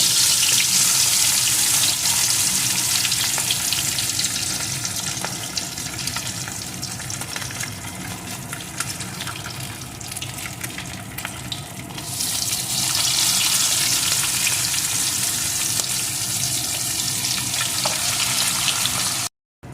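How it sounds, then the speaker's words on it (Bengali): Marinated katla fish pieces fry in hot mustard oil, giving a loud, steady sizzle and crackle that stays close and continuous with no voices, then briefly cuts out at the very end. "এখন আমি ওই ম্যারিনেট করা মাছের টুকরোগুলোকে দিয়ে ভালো করে এপিটপিট ওপিট করে ভেজে নেবো"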